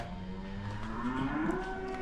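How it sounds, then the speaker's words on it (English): Cattle on a farm lowing, a long drawn-out moo rising in pitch, moderately close and steady over a low outdoor background, alone without talk. "Don't mind all the cows in the background."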